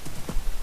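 A horse's hooves clip-clopping in a Minecraft-style survival game, a few quick soft thuds close by at a low, even level in a very short burst, with no talking.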